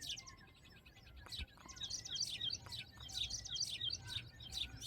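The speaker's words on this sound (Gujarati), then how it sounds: "જો પક્ષીનો પણ અવાજ સુંદર મજાનો આવે છે" Birds chirp and tweet repeatedly in quick, bright bursts over a low outdoor rumble, several calls overlapping throughout.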